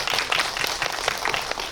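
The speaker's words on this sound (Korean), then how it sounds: "박수 한번 칠까요?" A short burst of scattered clapping from an audience at the Baeksang Arts Awards, brief and moderately loud, with individual claps standing out.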